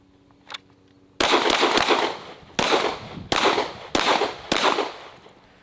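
Handgun shots fired at a target during a draw-and-react drill: six sharp, loud reports, one isolated and then five in quick irregular succession, each trailing off into echo, with no talking.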